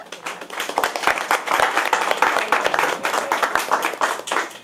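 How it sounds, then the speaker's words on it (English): A crowd at a New York peace event claps for Madame Zongo, a dense, steady round of applause filling the room, close and fairly loud, with no voices over it. "Round of applause to Madame Zongo."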